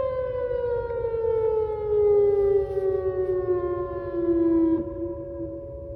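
A Whelen 2910 civil defense siren near the Sharon Harris nuclear plant sounds a growl-tone test from a distance, a steady wailing tone slowly falling in pitch with faint rising swells and no voices.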